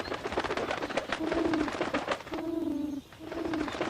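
A pigeon in a Tamil children's cartoon coos in a few close, low, rolling calls, sounding over a busy musical background.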